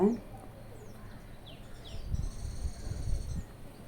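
A sparrow gives a few thin high chirps and short trills, fairly faint, with low handling thumps and murmur beneath.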